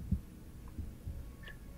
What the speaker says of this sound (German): Dass ich hier Herzschlag höre